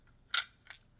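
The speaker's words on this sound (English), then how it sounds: "Sounds like physical dice." A couple of sharp clattering hits, a loud one then a softer one, physical dice tumbling onto a hard surface in a quiet room during a tabletop role-playing session.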